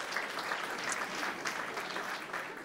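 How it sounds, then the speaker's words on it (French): Audience applause at an awards evening greeting a guest seated in the room: fairly faint, even clapping from a crowd, continuous throughout with no voices. "On peut l'applaudir"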